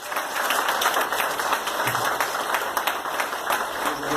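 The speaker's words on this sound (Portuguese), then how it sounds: "Aplausos às nossas pessoas." A church congregation applauds its mothers, a broad, uneven clapping of many hands, at times with sharper individual claps, sustained for several seconds without speech.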